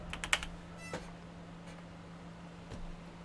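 Computer keyboard typing during a PC gaming session: a few quick clustered key clicks near the start, a couple of isolated taps later, faint and close over a low steady hum.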